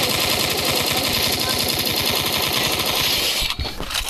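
Rapid sustained automatic gunfire from a weapon in the Free Fire video game, loud and continuous for several seconds in a dense rattling burst before cutting off abruptly.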